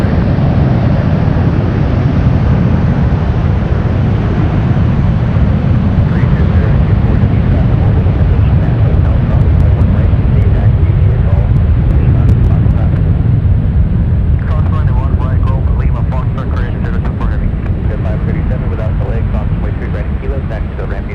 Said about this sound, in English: ANA cleared for takeoff.